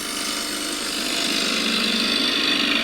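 A gouge cuts wood on a lathe during an entry cut, giving a loud, continuous broadband hiss and rushing shave that holds steady throughout, with no talk.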